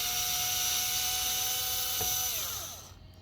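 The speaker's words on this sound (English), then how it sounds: "Normally I don't say use the drill." A cordless drill with its clutch set low drives screws, holding a steady, close, high-pitched whine before slowing and winding down near the end. Nobody talks.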